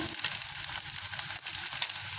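Chicken nuggets sizzle steadily in hot oil, a continuous close crackling fry with no voices over it.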